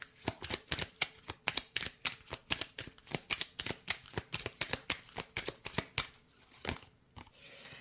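A deck of oracle cards is shuffled close up, a rapid run of crisp riffling snaps and flicks in quick succession, then slowing to a few separate slaps as cards are drawn, with no one speaking.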